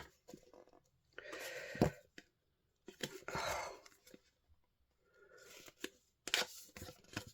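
Scissors snip through red liner tape in a quiet craft room, several separate cuts with rustling between them, soft and close.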